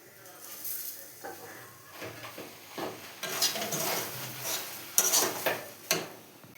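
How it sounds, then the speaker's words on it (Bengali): Semolina (suji) being stirred and fried in a pan with lemon juice for jhal suji, giving soft scraping, clinking and light sizzling in intermittent strokes, close and moderately quiet, with a few sharper knocks near the end. "এবার লেবুর রসটা দিয়ে দেবো, দিয়ে সুজিটাকে ভালো করে ভেজে নেব।"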